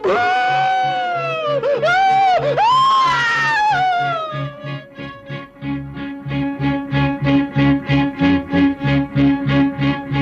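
A drawn-out scream drenched in heavy echo and distortion rises and falls, then breaks into rapid pulsing repeats that fade, loud and close with no talking, in a Hindi radio drama.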